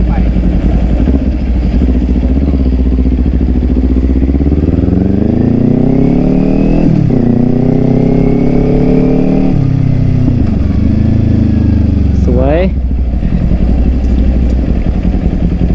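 A Kawasaki Ninja 400 motorcycle ridden fast on a highway, its engine loud and close, with the pitch rising and falling through gear changes under constant wind roar.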